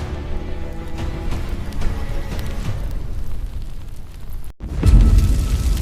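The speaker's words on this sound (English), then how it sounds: "Explosion!" A cinematic explosion from a Mobile Legends trailer: a loud, rumbling roar cuts out briefly, then a heavier boom bursts in at the end.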